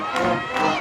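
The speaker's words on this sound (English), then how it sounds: "now they get loud. Huge crowd here in Benson," A large crowd at a night high school football game in Benson, Arizona, between the Benson Bobcats and the Tombstone Yellowjackets, roars loudly in a short, dense burst of cheering and shouting that swells twice.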